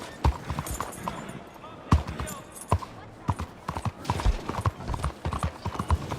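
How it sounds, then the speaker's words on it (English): Horse hooves clip-clop in a steady rhythmic trot in the video game Red Dead Redemption 2, loud and close, with speech over them. "¡Arre, caballo!"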